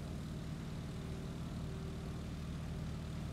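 Steady propeller airplane engine drone from Microsoft Flight, a licensed US aircraft in flight, a continuous loud hum with no talk over it.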